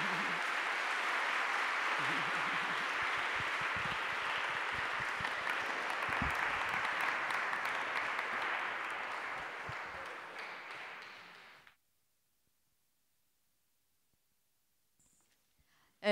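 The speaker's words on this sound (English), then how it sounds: "let's have a round of applause for our speakers." A conference audience applauds panel speakers, steady sustained clapping from a crowd that fades out and stops, then silence.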